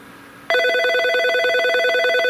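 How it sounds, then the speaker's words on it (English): A Norstar business telephone rings on an incoming external line, a loud electronic warble that starts abruptly after a quiet moment and holds a rapid, buzzing trill of bright tones close to the microphone. "the phone's ringing again"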